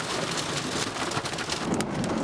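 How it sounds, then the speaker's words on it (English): Hailstorm in Dalhart, Texas, during a tornado outbreak, with hail and rain falling as a steady, dense roar of pelting drops on surfaces, loud and continuous throughout. "We just had a little hailstorm come by."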